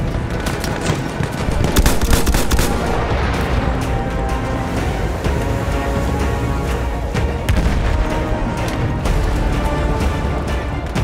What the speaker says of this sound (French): Mitrailleuse ennemie en vue !